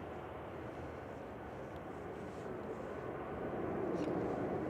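A departing EasyJet Airbus A320neo at Manchester Airport, a low, continuous jet rumble that swells slightly toward the end, distant and fairly faint, with a voice briefly audible in the background.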